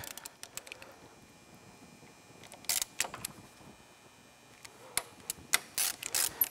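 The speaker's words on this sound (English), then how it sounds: "Then we go in and tighten down those Allens" Allen bolts tightened on the front brake caliper of a Honda TRX ATV, a series of quick ratcheting clicks in short bursts, near and crisp in a quiet workshop.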